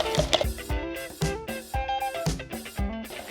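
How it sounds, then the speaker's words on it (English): Egg yolk and white whisked together quickly in a bowl for bread and butter pudding, a fast rhythmic series of sharp taps and scrapes close by. "what we want to do is whisk it nice and quickly like this, so that it all mixes into one"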